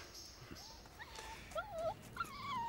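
Dog whimpering and yipping in thin, wavering high whines, several short cries growing more insistent, fairly faint over a quiet background.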